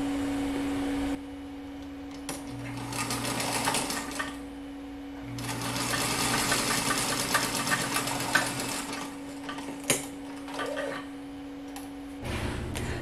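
Sewing machine stitching patchwork quilt pieces made from scraps, running in several bursts of steady mechanical whirring separated by short pauses, with a constant electric hum and occasional clicks, close and fairly loud.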